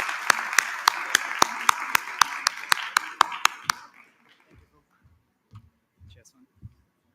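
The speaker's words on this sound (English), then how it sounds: "A warm round of applause, please." Slow, evenly spaced handclaps come from a small audience at a social-impact conference. The sharp claps are fairly faint and stop after about four seconds, leaving a few soft, muffled knocks.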